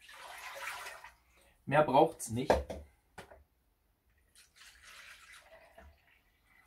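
Water is poured into a pot with apple cider vinegar to make a pickling brine for zucchini, heard as soft splashing at the start and end, with a person speaking in between.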